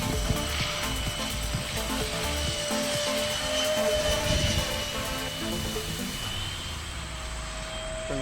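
An FT Viggen flat-wing radio-controlled model plane flies overhead, its motor giving a steady buzzing whine that holds evenly and fairly close for several seconds with no voices.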